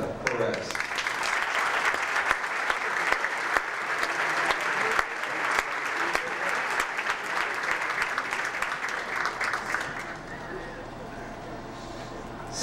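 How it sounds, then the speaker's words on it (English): Sustained applause from a large crowd at a pageant finale fills the space, dense clapping that holds steady before thinning slightly near the end. "Would you give a nice round of applause to Samantha Perez?"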